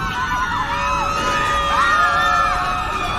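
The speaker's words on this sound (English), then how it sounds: "The screams of the passengers left on the decks drifted over the water." Dramatised screams of passengers left on the decks as the Titanic sinks, a crowd of distant, wavering cries and wails drifting over water, layered and continuous.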